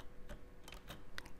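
Quiet keystrokes on a computer keyboard while entering guest details into hotel software, a few irregular soft clicks spaced through a low room hum.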